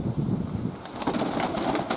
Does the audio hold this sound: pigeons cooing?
yes